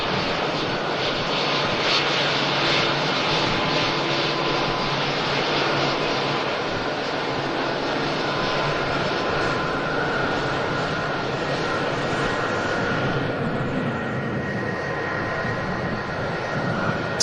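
A Saudi Dreamliner jet airliner lands on runway 05 right at Manchester Airport, its engine roar loud and continuous throughout, slowly easing toward the end.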